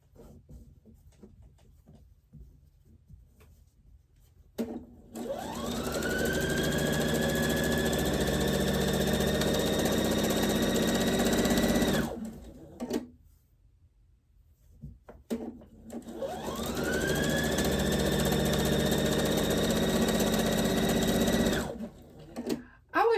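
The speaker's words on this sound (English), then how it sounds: "I put a mat or put something underneath here to keep my sewing machine from bouncing like that when I try to go fast." A home sewing machine runs fast in two long bursts of about seven seconds each, separated by a short pause, with a steady whine and a bouncing rattle as it sits on the table.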